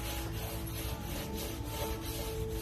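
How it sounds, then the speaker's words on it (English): A gasoline-soaked Scotch-Brite pad rubs against leftover sound-deadening material inside an E46 M3 race car shell, making steady close scrubbing strokes, a continuous rasping swish with no voices. "As you can see, just from wiping, it cleans up really, really well."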